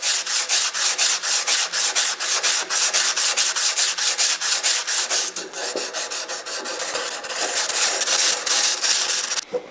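Rapid, rhythmic rasping strokes of hand sanding on a steel axe head, loud and close, with the stroke pattern changing partway through.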